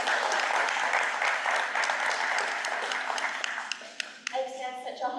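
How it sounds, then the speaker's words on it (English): Applause from the audience at a school board meeting: a dense, steady wash of many hands clapping that holds for about four seconds, then thins out and fades as a voice begins talking. "Please give everybody a big round of applause."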